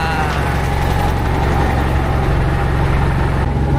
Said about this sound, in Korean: 이 엔진 소리를 계속 들으니까 귀가 좀 멍멍하네요.